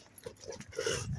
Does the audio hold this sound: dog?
yes